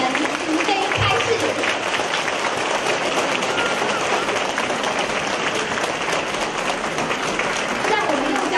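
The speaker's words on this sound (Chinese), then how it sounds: "现在让我们用最热烈的掌声恭请我们尊敬的卢军宏台长为我们慈悲开示" Loud, sustained applause from a large audience at a Buddhist dharma assembly in Auckland, New Zealand, a dense, steady wash of clapping that runs unbroken throughout.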